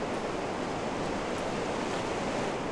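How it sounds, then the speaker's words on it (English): Steady rushing water in the Gothic remake demo video game, a constant dense wash like surf or a waterfall, unbroken and fairly loud with no voices. "This water."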